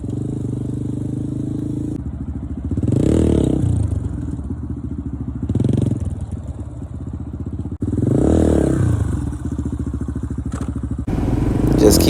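A dirt bike engine revs in repeated surges as the rider lifts into wheelies, the motor rising and falling in loud swells close by, with clattering and thuds between.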